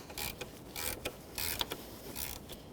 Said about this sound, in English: I'm going to tighten that top with a 12mm socket